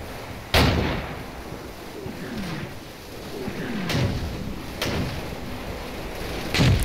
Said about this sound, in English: Got some mortar fire coming in,